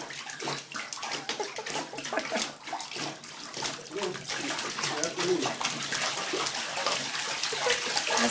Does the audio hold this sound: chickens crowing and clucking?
no